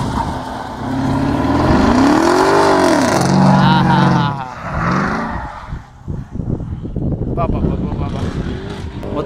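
A V8 car drifting on a track roars loud and near, its pitch swooping up and down through revs before breaking into rough, sputtering bursts; voices talk over it.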